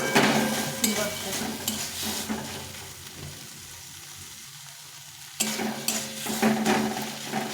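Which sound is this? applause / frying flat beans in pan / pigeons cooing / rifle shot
frying flat beans in pan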